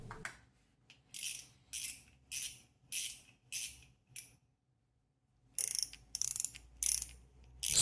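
A Zukibo Sembo Lure Hoguang 800S spinning fishing reel cranked in bursts, each turn a close, crisp ratcheting whir of gears. About six even turns, then a pause, then several harsher, louder turns, with no voices.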